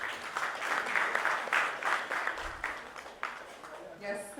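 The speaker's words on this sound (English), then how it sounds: "Let's give her a huge round of applause." Audience applause for a panelist at a procurement leaders summit, dense clapping from a roomful of people that carries on steadily, then thins as a voice begins at the end.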